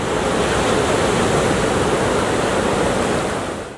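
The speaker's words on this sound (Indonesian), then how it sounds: "Ombak di Pantai Tanjung Setia jadi surganya para peselancar" Surf at Tanjung Setia beach in Pesisir Barat roars in a continuous, dense wash of breaking waves, loud and unbroken, with no voices over it.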